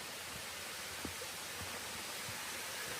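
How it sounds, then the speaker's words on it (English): A waterfall on a hiking trail up a mountain pours steadily as a broad, even rush of water, loud and close throughout, with faint low knocks underneath. "Here's the waterfall."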